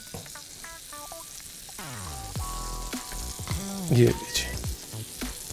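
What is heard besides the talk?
bread toasting in butter with garlic on a tava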